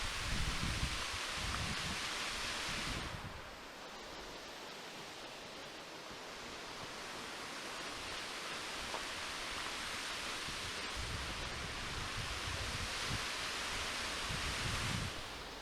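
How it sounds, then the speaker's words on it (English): Loud waterfall heard from the bottom of the falls on a hiking trail, a steady, dense roar of rushing water, close and continuous, with a gusty surge near the start and end. "For those of you who have never hiked to a waterfall, it's quite loud and there's a lot of energy"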